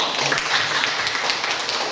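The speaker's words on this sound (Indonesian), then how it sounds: "Ya, tepuk tangan." Students in a classroom applaud, a steady, dense patter of many hands clapping at moderate loudness throughout, with faint voices mixed underneath.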